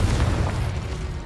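A Confringo blasting spell detonates in Hogwarts Legacy with a deep, rumbling boom that rolls on through the whole short burst, loud and close.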